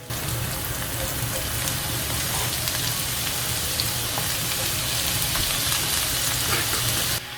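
Onions frying in a pan for a South African cottage pie, with mince and spices nearby: a steady, dense sizzle that stays loud and even from start to finish, with no talking.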